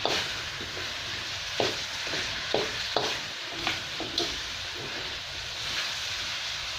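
Pork sizzles as it is stir-fried in a pan for Thai palo braise, a steady hiss broken by a handful of sharp spatula scrapes and clanks at irregular intervals, fairly close.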